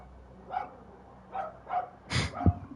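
A dog barks in the background in The Sinking City, five muffled woofs spaced irregularly, some distant and one closer burst with a sharp thump, over quiet ambience.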